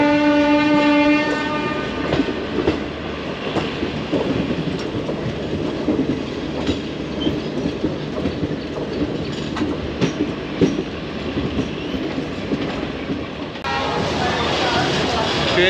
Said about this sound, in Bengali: ট্রেন দেরিতে ছাড়বার পরেও, লেটে ছাড়বার পরেও টাইমের আগে ঢুকিয়ে দিচ্ছে।